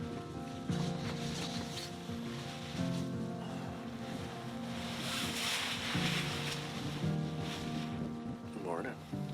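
Steady wind gusts across an open lake in the Algonquin backcountry, a broad continuous rush with swelling surges and a little water lap, heard up close with a voice speaking at times.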